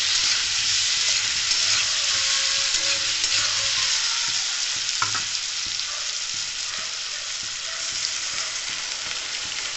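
Tomatoes frying in a pan with water just added, giving a steady, loud sizzle and bubbling hiss that holds for the whole stretch, with faint stirring scrapes and no voices.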